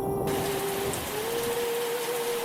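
Dense, steady rainfall hisses on a surface at night, a constant heavy wash with no break, with a faint thin tone drifting through it and no voices.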